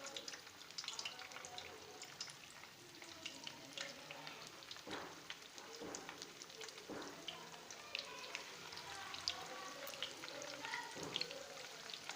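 Chicken pieces frying in hot oil in a pan, a steady crackling sizzle with scattered sharper pops running throughout, fairly close and even in level with no voices.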